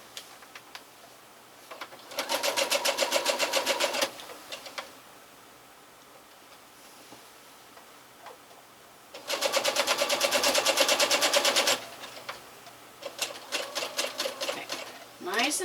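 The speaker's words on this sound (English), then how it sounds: "And I'm going to pin right here. Alright, let's sew this down." A sewing machine stitches quilt strips in two bursts of rapid, steady whirring, each a couple of seconds long. Quieter pauses with faint handling noises fall between them, and a voice speaks in the gaps.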